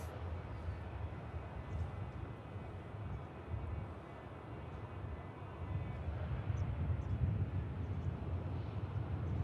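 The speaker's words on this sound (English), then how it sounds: "Nice touchdown from the EasyJet." An EasyJet airliner touches down at Manchester Airport, a steady low rumble of engine and rollout noise, moderately distant, swelling slightly louder toward the end amid some wind buffeting.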